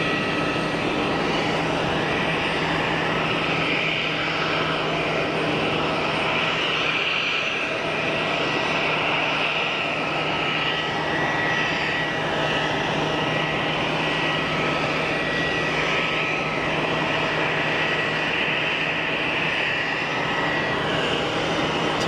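Turkish Airlines Airbus neo airliner on short final at Geneva Airport, passing over IKEA and the fence: a steady, loud, broadband engine roar with a low hum holds evenly throughout, with no talk.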